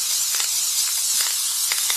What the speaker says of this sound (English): And you're just going to spray in the openings